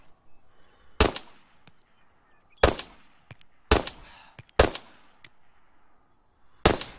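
Five loud, sharp Makarov pistol shots ring out in Arma 3, spaced irregularly about a second apart, each with a brief ringing tail and no talk.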